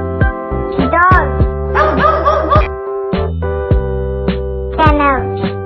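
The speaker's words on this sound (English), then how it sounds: "Dog." A dog barks and yips in a quick series of close, bright, whiny calls with short pauses, clear and alone with no talk.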